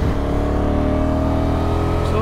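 A 2022 Honda NT1100 sport tourer's V-twin pulls steadily in fourth gear around 5,000 rpm, a loud continuous engine drone mixed with wind rush from the rider's position.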